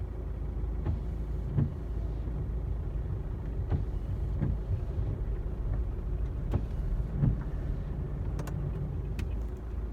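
A VW Passat B6/B7 rolls slowly in drive after a battery replacement, a steady low engine and road rumble with a few faint clicks and light knocks, continuous and fairly close, no voices.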